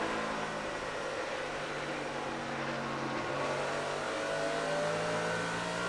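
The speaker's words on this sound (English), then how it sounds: "Hear him pick up the throttle right there coming up off of turn 4." A NASCAR Nextel Cup stock car accelerating hard out of turn 4 on the outside groove, a steady broad engine roar held at full level throughout with no talk over it.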